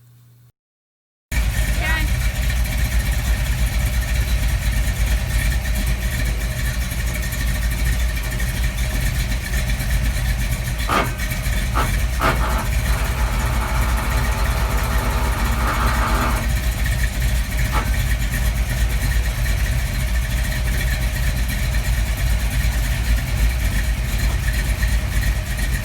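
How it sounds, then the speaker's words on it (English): The engine of a 1962 Ford F250, fitted with a budget-built exhaust and used Flowmaster mufflers, runs loudly and steadily nearby, with a few brief throttle blips midway. "There's my budget built exhaust. I ordered this kit from Summit Racing and then got some used Flowmasters."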